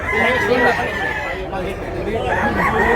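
Roosters at a Cebu fowl market in Tabunok, Talisay, crowing amid steady crowd chatter, with people talking and bargaining close by throughout.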